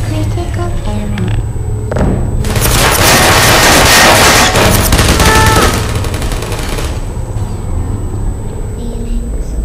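Gunfire in a modded Portal game: a loud, dense stretch of rapid shots lasting several seconds, framed by quieter electronic tones and humming beforehand and afterward.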